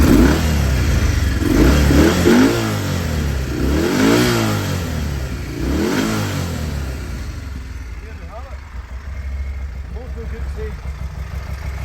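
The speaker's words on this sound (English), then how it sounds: "I'll give it a few revs just so you can hear how she sounds." A 2015 Moto Guzzi Norge 1200 GT motorcycle engine revs up several times in quick bursts, rising and falling, then settles to a lower idle near the end.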